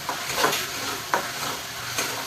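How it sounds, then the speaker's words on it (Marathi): Tomato puree is sautéed in oil for a restaurant-style paneer curry. A gentle sizzle runs throughout, broken by three scraping strokes of a spoon stirring the pan. Nobody talks. "टॅमॅटो प्युरी असं चांगलं परतून घ्यायचं."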